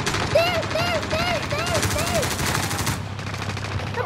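Rapid automatic gunfire in Call of Duty: Modern Warfare, a dense loud burst of repeated shots lasting several seconds before cutting off, with pitched whistling tones sweeping over it and some talk underneath.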